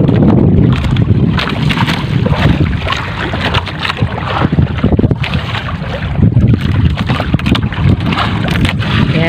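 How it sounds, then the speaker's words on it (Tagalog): Steady wind and water rush around a fishing boat at sea during the amihan monsoon, loud and continuous with rumbling low gusts and no voices. "mahangin pa rin si aking amihan pero kalmada naman siya"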